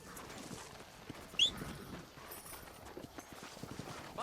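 Faint, steady clip-clop of a horse's hooves in the Red Dead Redemption video game, soft rhythmic steps at a distance with one brief sharper sound midway.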